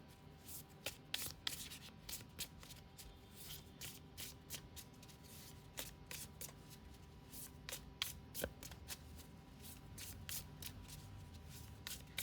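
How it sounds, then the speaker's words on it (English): Tarot cards from a pocket archetypes deck being shuffled close up, a steady run of soft riffling and sliding card taps with sharper flicks scattered throughout, no voices. "let's shuffle the cards on the camera itself"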